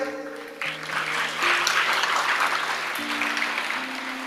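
An audience at a live motivational talk breaks into sustained applause. The clapping is dense and fairly loud, and faint steady tones hum underneath throughout.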